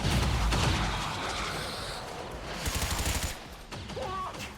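Gunfire in XCOM 2 comes as rapid automatic bursts and scattered shots, moderately loud, with a sharp crackling volley near the end.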